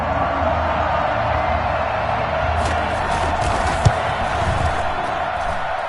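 A football stadium crowd roars after a big play in a Dolphins–Bills blowout, a dense steady wall of cheering and noise that stays loud throughout with no clear speech.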